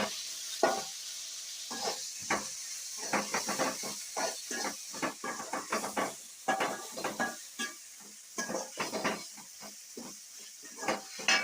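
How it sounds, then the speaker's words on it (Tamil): Tomatoes with curry leaves fry in a pan, a close hiss and sizzle broken by frequent short bursts of stirring scrapes in an uneven rhythm, with no talking. "3 தக்காளி போட்டு நல்லா வந்துட்டு ஃப்ரை பண்ணிடுவோம்"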